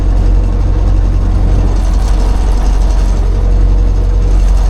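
An MTZ tractor clears deep snow in four-wheel drive, a loud, close, low diesel drone that stays steady throughout with no voices.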